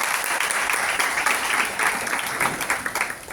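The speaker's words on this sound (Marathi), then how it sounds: "त्यांचं आपण टाळ्या वाजवून जोरदार स्वागत करतो." Audience applause at a school speech competition welcoming the top three prize winners, a dense, steady wash of many hands clapping throughout, moderately loud and continuous with no voices over it.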